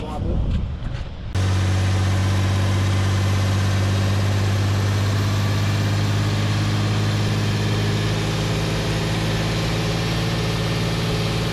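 Massey Ferguson 8470 tractor engine running warm on a test bench, a loud steady low drone with a constant hum after a brief quieter start, continuing without pause.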